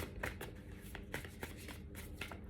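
Tarot cards being shuffled by hand, a series of soft riffling bursts and papery slaps in a quiet room, close and fairly faint.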